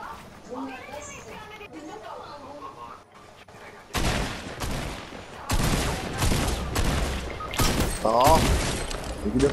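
Weapon fire in the battle-royale game Fortnite: after a quieter stretch of talking, repeated loud bursts of shots crack out in quick clusters, close and dominant, while players keep chatting underneath.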